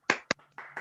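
A few sharp hand claps ring out at the close of a vote of thanks, two quick loud bursts followed by softer, scattered clapping over a low steady hum.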